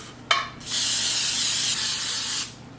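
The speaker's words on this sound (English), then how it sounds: "I'm going to spray my pan with the pan baking spray." A short hiss, then a steady spray of baking spray onto a baking pan for about two seconds, loud and close, stopping abruptly; no voices.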